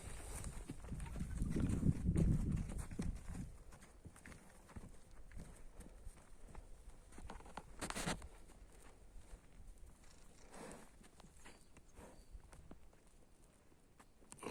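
Horses, stallions and mares, clip-clopping at walking pace on a farm, a fairly close patter of hooves with louder thuds at the start and a faint voice now and then.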